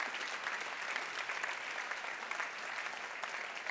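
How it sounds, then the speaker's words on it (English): Steady audience applause for the speakers at the close of a library conference plenary session, a dense, even wash of many hands clapping at moderate distance, sustained throughout without a break. "So again, a really warm applause to our fantastic speakers."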